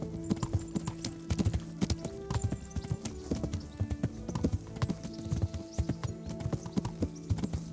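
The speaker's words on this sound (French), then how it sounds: "Petit galop. Je suis un cavalier." Rhythmic hoofbeats clop steadily at a canter in the video game Kingdom Come: Deliverance, continuous and fairly close, with a faint horse snort and light background noise.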